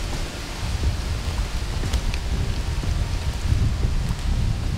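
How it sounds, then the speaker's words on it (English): Heavy rain pours steadily through woods during an approaching storm, with a dense, constant hiss and patter and faint rumbles underneath; no one speaks. "it's coming a heck of a storm"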